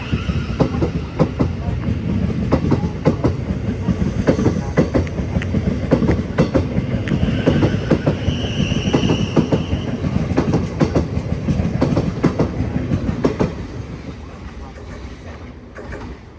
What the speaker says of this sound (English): off goes 700-119 with the 1303 Tramlink service to Bedford on Three Bridges.